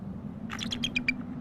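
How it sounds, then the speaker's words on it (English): A female bald eagle calls out to her mate from a snowy nest, a short series of about six high, chirping screams in quick succession, heard alone over steady low wind noise. "she's screaming right now at the male"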